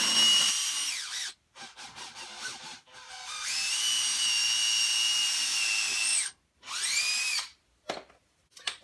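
Power drill boring at an angle into a wood board for a mobile clamp rack, close and loud, with a long steady whine between shorter bursts that start and stop.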